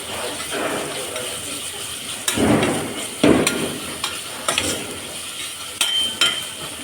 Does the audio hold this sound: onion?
yes